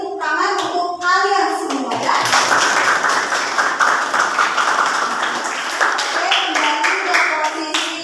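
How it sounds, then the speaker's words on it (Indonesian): A classroom of students claps together for several seconds, a dense, even burst of applause, with a teacher's voice speaking before and after. "Beri tepuk tangan untuk kalian semua ya."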